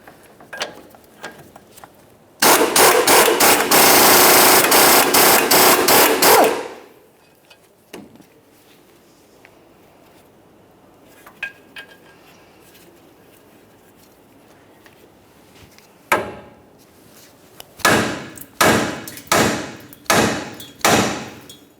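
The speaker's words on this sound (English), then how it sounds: "so we can separate the ball joint from the knuckle. For that, we'll just be using a hammer," Metal impacts ring out while a hammer frees a ball joint from a steering knuckle on a 2004-2008 Ford F-150. A long, dense burst of rapid strikes comes first, then scattered knocks and five evenly spaced sharp taps at the end.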